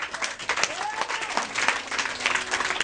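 Church congregation applauding and acclaiming during a sermon, continuous clapping mixed with raised voices and cries from the crowd throughout the brief moment.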